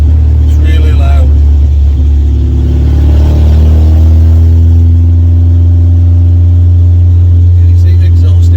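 Loud, steady engine drone and low rumble from a 1986 Ford Cortina P100 pickup heard from inside the cab while driving in heavy rain, with someone talking over the noise early on.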